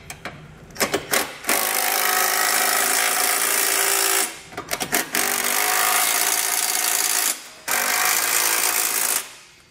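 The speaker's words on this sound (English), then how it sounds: "tighten down the rest of our bolts here in the side of our base plate" Bolts on a Roadmaster base plate are driven tight on a 2020 Buick Envision with a power socket tool, heard as three long, loud whirring bursts, each led by short stuttering clicks and starts.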